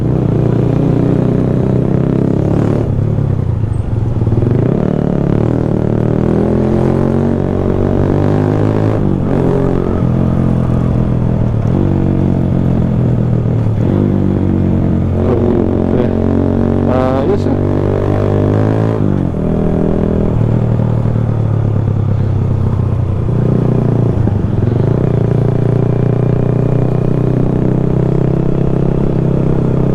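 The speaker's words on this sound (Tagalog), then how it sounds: "I'm hoping na maganda rin yung tunog na naririnig nyo or buo siyang naririnig sa camera natin." A loud Honda Supremo motorcycle with an aftermarket Replica Pro exhaust revs up and down repeatedly, its throaty exhaust rumbling and crackling between throttle blips for a long stretch.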